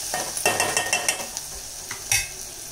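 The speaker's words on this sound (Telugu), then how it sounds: "ఆనియన్స్ వేగాయా లేదా వేగిన చూసుకోండి" Onions fry in a pan with a steady close sizzle, broken by several scraping clinks of a spoon stirring them, and no one speaks.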